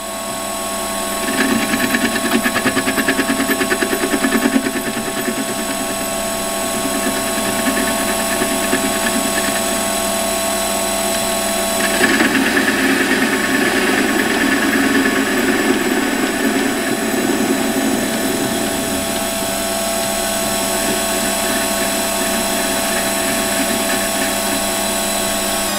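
A metalworking machine facing off a metal part ahead of drilling for an M10 tap gives a loud, continuous whirring cut with steady tonal hum, swelling in intensity partway through and holding for the full stretch.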